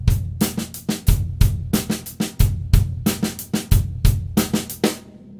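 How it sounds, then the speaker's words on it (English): A drum kit plays a repeating funk-rock groove alone, with paired eighth-note bass drum hits locking against a new snare pattern in a steady, punchy rhythm across several bars, close and clear. "It has two 8th note bass drums using that new snare drum pattern."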